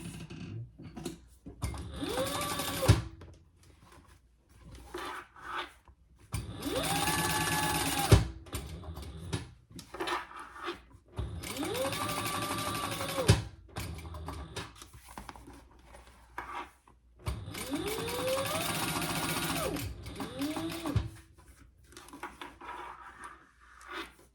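Sewing machine top stitching a seam on a triple-zip crossbody bag, heard in four steady bursts of a few seconds each, separated by short quiet pauses and handling noises.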